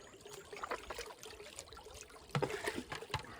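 Scooped gravel and water dumped back into a stream while gold panning outdoors, giving a faint, steady trickle with a few louder splashy pours near the end, with no talk.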